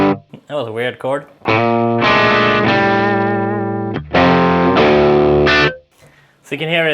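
An electric guitar runs through an ABASI Pathos distortion pedal with mild breakup. Loud sustained chords ring out between short gaps, and a voice speaks briefly at the start and end.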